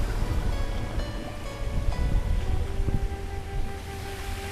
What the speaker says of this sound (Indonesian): Nih, aliran airnya seperti ini teman-teman